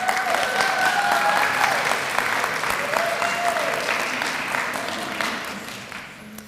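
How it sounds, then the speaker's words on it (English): An audience claps at a college School of Education graduation pinning ceremony, sustained dense applause from a large crowd with a few whoops over it, gradually fading out at the end. "give them a nice round of applause"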